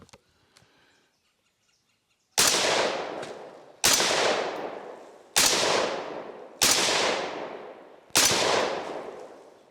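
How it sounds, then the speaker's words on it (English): Five loud, evenly spaced rifle shots from a Kel Tec RDB-C firing atomic loads outdoors, each sharp crack trailing a long echoing decay, after a brief quiet lead-in with faint birdsong. "Then we're just going to blast some rounds."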